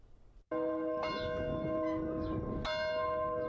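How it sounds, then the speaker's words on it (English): Church bells of prairie churches ring out loudly with long resonant tones, two strikes overlapping as their rich overtones linger and decay. "The bells of St. Andrew's, Holy Trinity, and St. Anthony's rang out during a service"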